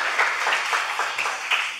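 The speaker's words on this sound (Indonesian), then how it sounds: "Kasih tepuk tangan." An audience applauds together, with a brief, steady patter of hand claps at moderate loudness.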